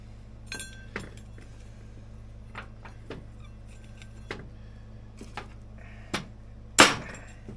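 A screwdriver prying at the bushing of a vintage Polaris snowmobile P85 drive primary clutch, giving scattered metallic taps and clinks at close range, ending in one louder sharp strike.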